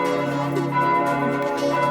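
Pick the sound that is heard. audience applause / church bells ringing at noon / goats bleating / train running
church bells ringing at noon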